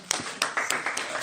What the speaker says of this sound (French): C'est les applaudissements les plus longs du monde qu'on a jamais eu.